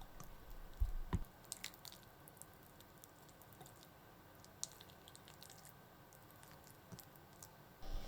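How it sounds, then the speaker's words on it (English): Minced chicken meatball mixture for Japanese tsukune is squished and kneaded by hand, giving soft, faint, irregular wet squelches and small clicks, slightly louder at the start. "Mix well until the mixture becomes sticky. Divide the mixture into roughly 8 equal parts."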